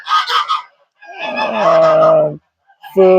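Six-month-old geese honk loudly and close by in three bursts: a short nasal call, a longer drawn-out honk, then another begins.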